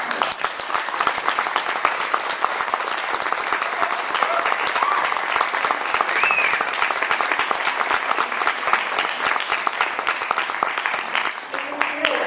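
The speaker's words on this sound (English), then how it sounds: "another round of applause for the sort of emotional outlay that these actors have given to you to present this" Sustained applause for actors after a performance of The Laramie Project at Northwestern University, a full steady wash of many hands clapping from a seated audience, with a few scattered voices underneath.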